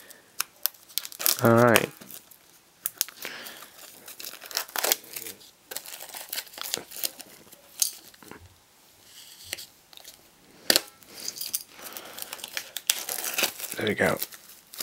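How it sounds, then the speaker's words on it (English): Sharp knife slicing open the plastic wrap on a Clockwork Orange digibook, with crinkling and tearing of the film in bursts, close and quiet, while a person talks briefly. "Being really careful, it's a sharp knife. Don't want it to cut any of the pages or anything."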